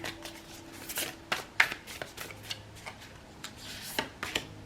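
Soft, papery riffling of tarot cards being shuffled in short bursts, close by and fairly quiet, with a few sharp ticks and taps between.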